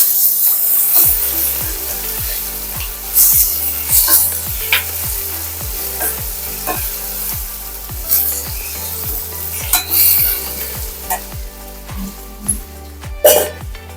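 Chopped broad beans (avarakkai) sauté in a pan for thokku, with a loud sizzle under a regular beat of spoon strokes scraping and tapping the pan, about two per second, no voices.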